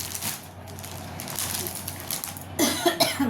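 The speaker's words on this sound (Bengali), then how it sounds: "এখন কাশি হয় হতেই থাকে" A woman coughs a few times indoors, short rough bursts coming close together near the end after a quieter stretch of room noise.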